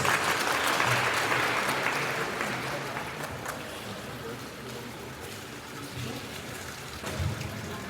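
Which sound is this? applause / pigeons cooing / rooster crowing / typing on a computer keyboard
applause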